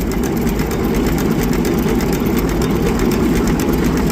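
McCormick-Deering 10-20 tractor engine running at idle, a steady, loud, low rumbling drone close by with no pauses.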